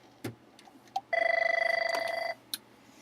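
A phone rings once with a fast trilling electronic bell burst lasting about a second, fairly faint and set back in a quiet room, with a few small knocks and clicks before and after.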